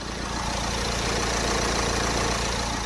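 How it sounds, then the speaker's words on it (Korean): A Renault Samsung QM6 2.0 diesel idles with the bonnet open, recorded close to the engine: a smooth, even, quiet diesel hum with a faint steady clatter, unchanging throughout and with no voices. "디젤 차량이지만 정말 정숙하고 조용한 엔진 사운드 보여주고 있는데요"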